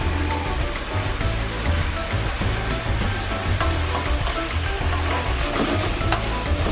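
Sweet and sour sauce with carrots and ginger for salmon simmering in a pan, giving a dense, steady bubbling hiss that stays loud and unbroken throughout.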